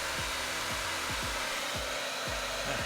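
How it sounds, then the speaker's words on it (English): A handheld hair dryer blows in a steady, close whoosh of air with a low pulsing motor hum beneath, running continuously without a break. "So this is my wife's hair dryer."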